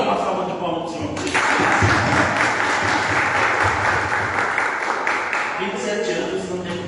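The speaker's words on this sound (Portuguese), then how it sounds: "Dá uma salva de palmas para o Senhor" A church congregation applauding for the Lord during a Portuguese-language worship service, a dense wash of clapping that swells after a second and holds steady, with voices sounding over it.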